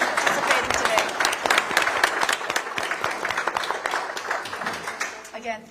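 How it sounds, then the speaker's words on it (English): Audience applause for candidates at a mayoral debate, dense clapping from a live crowd that gradually thins out, with voices faintly under it and a speaker starting to talk at the end. "Let's give a big round of applause for all of our candidates participating today."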